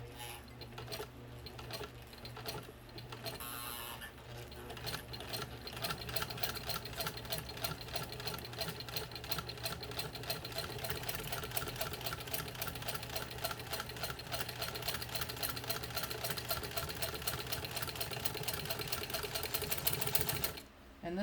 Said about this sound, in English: now we're going to go through 3 layers of leather.